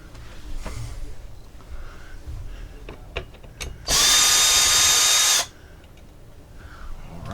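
A power drill whirs loudly for about a second and a half, backing screws out of the lift mechanism of an RV crank-up vent lid, between faint clicks and handling noises.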